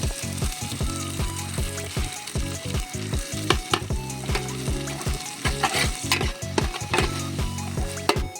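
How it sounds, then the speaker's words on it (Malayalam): Ginger-garlic paste sizzles and fries in a pan for a fish head curry, a steady loud crackle broken by sharp scraping stirs of a spoon against the pan. "നമ്മൾ പേസ്റ്റ് ആക്കി വെച്ചേക്കുന്ന ഇഞ്ചിയും വെളുത്തുള്ളി നമുക്ക് ഇട്ട് കൊടുക്കാം."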